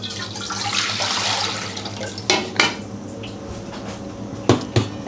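Water, 1.5 liters, poured into a pot for Thai yellow curry (gaeng leung) in a home kitchen, a running splashing flow for about two seconds, followed by a few sharp clanks of pots and utensils.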